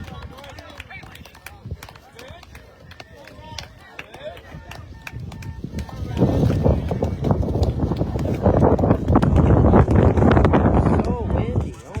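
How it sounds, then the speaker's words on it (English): Strong wind blows across the sideline of a beep baseball field, buffeting the microphone with low rumble that grows much louder and gustier in the second half, mixed with scattered knocks and distant activity. "So windy, oh my gosh."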